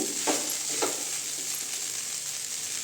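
Idli upma is stirred in a frying pan, a steady close sizzle broken by a few soft scraping strokes of the spoon, with no voices.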